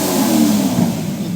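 An Acura NSX engine revs in a short, steady, loud burst, a throaty mid-pitched growl heard alone.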